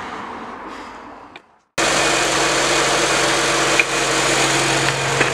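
An 8th generation Honda Civic engine idles with the AC running. After a short silent break, a steady, close mechanical hum and whir carries on evenly.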